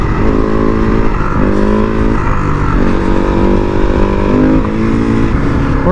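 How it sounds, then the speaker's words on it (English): A supermoto motorcycle ridden on an evening street, its engine loud and close with a steady droning exhaust, rising and falling in pitch through gear changes and throttle shifts, buffeted by wind. "We're going on a little evening stroll on the old Supermoto"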